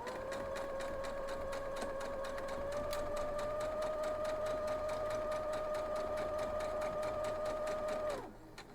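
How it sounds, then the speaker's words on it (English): A sewing machine stitches down the corners of a quilt block in one steady run of fast, even whirring. It is close and clear, then winds down sharply and stops near the end. "So I'm going to head on over to the sewing machine"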